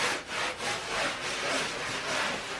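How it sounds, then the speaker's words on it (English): Clean, dry sawdust is wiped across a table that has been used for skinning a beaver, with a continuous close scraping swish that rises and falls in a few broad strokes. "I wipe it down and then my table's completely clean. And I just push it off on the floor."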